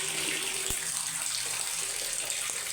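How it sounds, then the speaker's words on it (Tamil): Steady broadband rush of water running from a tap, continuous and fairly loud throughout, with a single brief knock partway through. "இப்படி தண்ணி வந்துக்கிட்டு இருந்தது."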